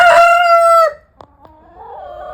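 A Jersey Giant rooster lets out one loud, close crow that ends abruptly, followed by a few soft clucks and quieter calls in a winter poultry yard.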